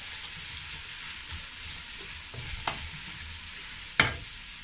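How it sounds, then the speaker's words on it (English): A spoon stirs onion and leek frying in a pot, a soft steady sizzle broken by a few sharp scrapes and knocks against the pot, the last one loudest. "Mix this together really well."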